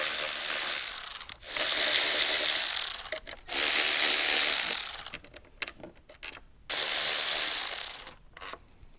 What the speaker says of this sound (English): So with a T30 Torx bit, we're gonna remove these 4 bolts on the side.